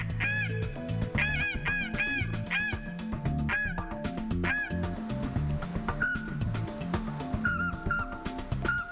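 A handmade game call imitating waterfowl gives a continuous run of close, loud, nasal honks and quacks in quick irregular bursts, like geese or ducks.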